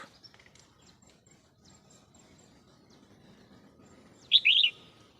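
A wild bird, heard while trapping crested bulbuls in the countryside, gives one loud chirping call near the end after faint distant twitters over quiet outdoor background.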